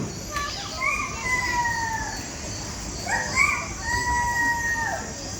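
A performer in a stage play imitates a nocturnal bird by mouth, producing two drawn-out, whistle-like calls with gliding pitch, separated by a short pause, over a faint hum of room noise.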